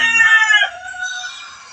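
Pet chickens and a rooster on a backyard Filipino farm, with a loud close crow in the first moments that trails off into softer fowl calls.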